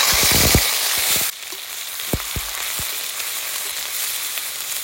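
Whole cumin and onion paste frying in hot mustard oil, a loud steady hiss that drops suddenly in level, punctuated by several sharp spoon knocks against the pan.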